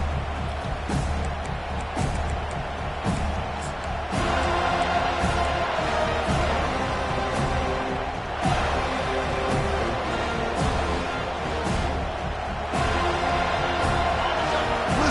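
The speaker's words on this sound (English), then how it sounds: "Listen to the crowd energy here in the early going." A packed stadium crowd roars during the early going of a Florida State college football game, a dense, sustained swell of cheering and noise with no voices standing out.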